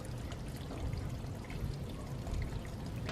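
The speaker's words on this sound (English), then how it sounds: "Look, we got water coming out." Rainwater pours steadily from a 30-gallon rain barrel, a continuous close splashing gush that holds at a fairly even level for a few seconds with no talk over it.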